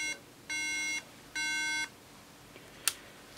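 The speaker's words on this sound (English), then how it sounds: "It beeps." Repeated beeping after a MagSafe charger is plugged in: three sustained electronic tones, each about half a second, in a quiet room, followed by a faint click and a short sharp high chirp.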